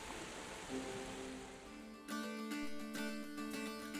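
A twin waterfall in Kerinci Seblat National Park rushes in a steady, broad roar of falling water, heard at moderate distance with a constant wash and no voices.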